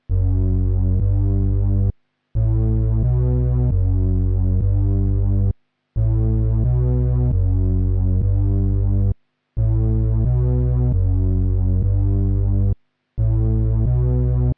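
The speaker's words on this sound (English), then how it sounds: "For this bass, we use the locked bass from the infrared serum bank" A clean synth bass line from the Locked Bass Serum preset in the Infrared bank follows root notes in long sustained deep notes, grouped in phrases separated by short gaps, loud and steady with no voices.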